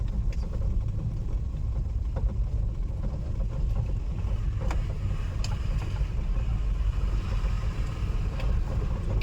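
A learner car creeps through a narrow lane and up a slight incline with the clutch being eased. A constant low engine and road rumble sounds from inside the cabin, with faint wind noise and occasional small clicks.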